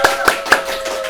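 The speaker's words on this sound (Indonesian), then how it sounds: "tepuk tangannya dong teman-teman." Clapping from a studio audience, three distinct sharp claps spaced evenly and close by, over a faint steady background tone.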